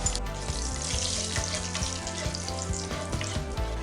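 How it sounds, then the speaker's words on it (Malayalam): Bay leaves and cumin seeds sauté in hot oil in a kadai, giving a loud, steady, close sizzle with faint stirring scrapes throughout. "1/2 ടീസ്പൂൺ നല്ല ജീരകം ഇതും ചേർത്ത് നല്ലപോലെ വഴറ്റിയെടുക്കാം."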